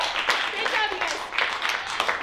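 Audience applause for bachelors at an improv comedy show, a busy patter of clapping hands with voices talking and whooping over it.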